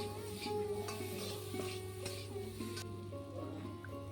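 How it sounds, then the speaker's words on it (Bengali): Boiled mukhi (taro) stirred and sautéed in a pan over a high gas flame, giving a steady close sizzle with soft scraping stir strokes throughout. "মুখিগুলা সেদ্ধ যেহেতু তার জন্য গ্যাসের ফ্লেমটা কিন্তু একদম হাইতেই রেখে আমি সাঁতলে নিচ্ছি"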